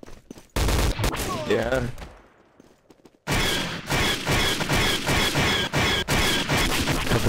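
Rapid gunfire in the game Day of Defeat Source, with bursts of shots crackling loudly over a dense mix of battle noise, broken by a short quieter gap; someone speaks briefly.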